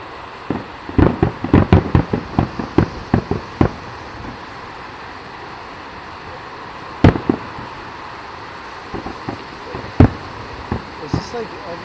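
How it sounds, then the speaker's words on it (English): Fireworks going off at SeaWorld at night: a rapid cluster of sharp booms and crackles early on, then scattered single blasts and pops later, loud and echoing over a steady crowd murmur, with people chatting nearby. "Is this like every day they have fucking fireworks?"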